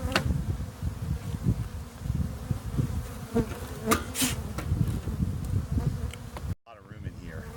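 Honeybees swarming around an open hive during a colony split, a dense steady buzz that stays close and constant, with occasional louder passes of single bees near the listener before it drops out near the end.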